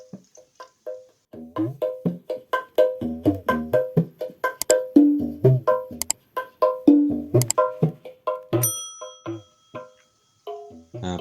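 Music plays through a Winsi WS322 portable speaker box, bass radiator flexing, with a steady run of short percussive notes and bright plucked tones, moderately loud and unbroken by talk.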